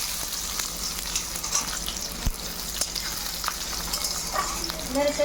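Black cumin, dried chili and chopped onion sizzle steadily in hot oil for a Bengali boal fish paturi, with a dense, even crackle broken by occasional stirring scrapes and a sharp spatula knock midway.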